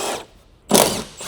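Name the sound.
power tool removing BMW E46 strut tower mounting nuts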